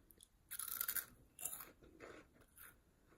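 Crunchy Ukrainian snack made with veal and adjika being bitten and chewed close up, a few loud crisp crunches in two bursts followed by quieter chewing.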